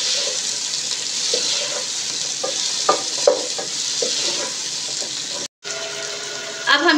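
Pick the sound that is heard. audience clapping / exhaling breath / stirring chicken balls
stirring chicken balls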